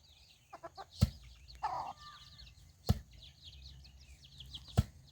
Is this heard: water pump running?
no